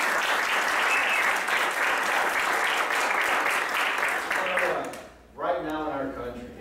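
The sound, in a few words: audience applause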